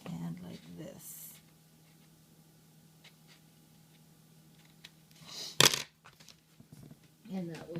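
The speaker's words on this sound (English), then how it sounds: "you can just go ahead and you can just cut a little notch out like this and like this" Scissors cutting a notch into a manila folder, with a few quiet paper snips and one sharp crisp cut, plus rustling of handled paper, close up and with talking nearby.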